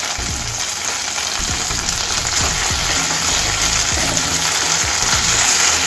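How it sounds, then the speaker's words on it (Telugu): Ripe red chilli pieces fry in a pan for fried rice, giving a dense continuous sizzle with soft low crackles and stirring underneath, close and steady without voices. "1 నిమిషం పాటు వేయించుకోవాలండి"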